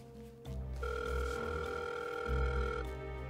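A telephone ringback tone purrs steadily on the line, a sustained electronic ring with a brief change near the end.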